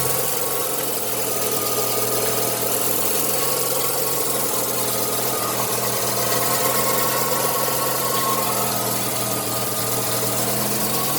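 A Mazda RX-7 FC rotary engine with a street port runs steadily with a loud, buzzy idle and a rough, pulsing drone. It keeps going without a break and stays close to the listener.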